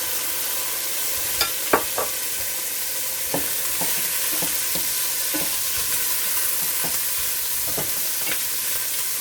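Carrot stir-fries with garlic and ginger for shrimp fried rice, a steady close sizzle broken by repeated light taps and scrapes of a spatula against the pan.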